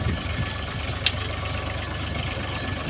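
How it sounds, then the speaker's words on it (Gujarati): A Champion farm tractor engine idles with a steady low rumble, a faint click partway through, no voices. "ફાર્મ ટ્રેક્ટર છે ચેમ્પિયન ફાર્મ ટ્રેક્ટર"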